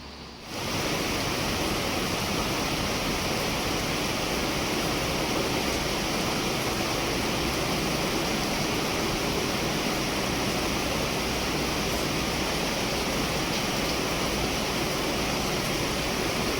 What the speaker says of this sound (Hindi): तो इसीलिए इसने एक झरने का रूप यहाँ पे ले लिया है।